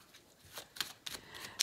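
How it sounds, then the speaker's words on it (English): Tarot cards being shuffled by hand, a few soft, close riffling flicks and taps in short bursts, quiet and without talk. "I'm going to go ahead and pull these cards up, and I'm going to shuffle them"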